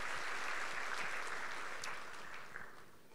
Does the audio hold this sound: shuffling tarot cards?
no